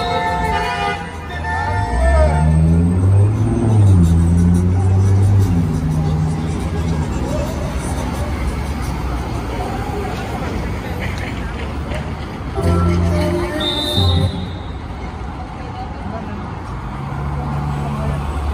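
Parade cars for Mexican Independence Day roll past on a New York City street, with horn toots and steady traffic rumble under a loud crowd and nearby talking.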